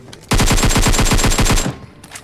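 Fully automatic AKM rifle fire in a battle royale video game: one sustained burst of about a dozen rapid, evenly spaced, loud close shots, then a few faint trailing pops.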